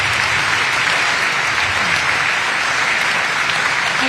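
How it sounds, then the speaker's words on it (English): Loud, sustained applause from a crowd at an outdoor GOP barbecue in Michigan, steady clapping and cheering filling the whole stretch without a break. "let us give you a big round of applause"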